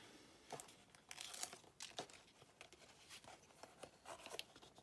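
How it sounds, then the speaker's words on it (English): Adhesive backing peeled off a sticky strip on a papercraft belly band, a run of crinkly, tearing rustles in short bursts close by, with no talking. "I'm just going to peel this sticky off"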